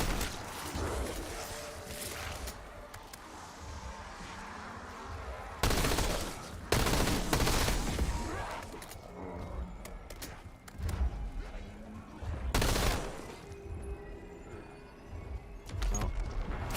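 Video game gunfire rattles in repeated bursts, with several loud, sharp volleys separated by quieter stretches of background game noise.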